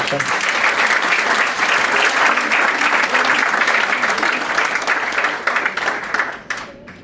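Audience applause fills a church, dense steady clapping from a crowd that stays loud for several seconds before thinning and fading out near the end.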